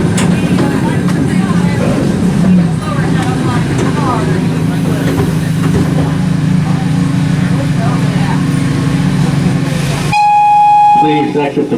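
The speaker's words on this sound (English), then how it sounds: "Now remember, wait for the whistle." Miniature train at a transportation museum rumbling along the rails, then its whistle blows in a couple of sharp toots near the end as the rumble drops away, close and loud, with faint voices under it.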